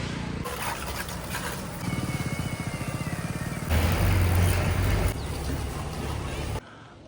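A pressure washing machine runs steadily while a vehicle is washed outdoors, its motor hum rising louder partway through with a rhythmic pulsing, then dropping to a lower drone before cutting off.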